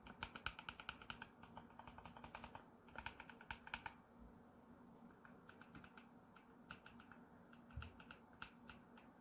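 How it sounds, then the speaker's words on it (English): Quiet, steady typing on Flamingo linear switches of an EPOMAKER EK21 hot-swappable number pad, with soft rapid keystroke clusters in bursts and brief pauses, alone and fairly close. "you have your Flamingo linear switches, which are very quiet. So we'll see what that sounds like"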